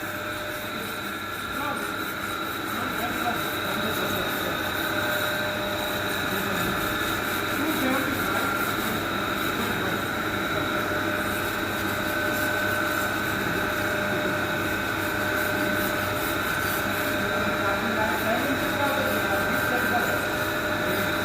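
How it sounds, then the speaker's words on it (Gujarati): A wire brush scrubs a roll weld in a metal workshop, a steady, loud, continuous rasp over machinery hum that never pauses. "वायर ब्रश मारा है पिंटू"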